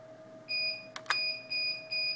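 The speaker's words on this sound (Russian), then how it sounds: "при разряде до этого значения, сначала будет предупредительно пищать, а потом часто пищать" Evenly spaced high electronic low-battery warning beeps from a BLDC motor controller repeat about four times over a steady low tone, with a couple of sharp clicks in the middle.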